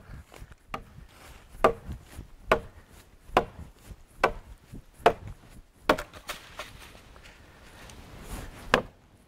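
A very sharp knife chops into timber outdoors: a steady series of about a dozen sharp, woody thwacks spaced under a second apart, close and distinct, with no talking.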